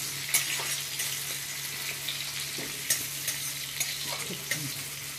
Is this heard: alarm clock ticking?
no